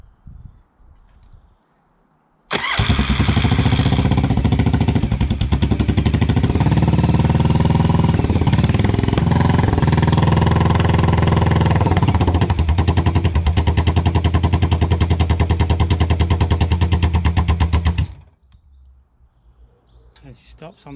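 A motorcycle engine fitted with temporary exhaust baffles starts up close by, then runs loud and steady for about fifteen seconds with a few throttle blips before it cuts out abruptly, leaving quiet background.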